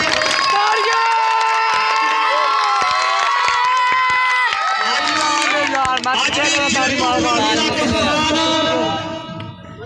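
A large crowd at an outdoor kabaddi match between two clubs cheers and claps, building into a dense roar of applause in the second half beneath a loud announcer shouting over a PA.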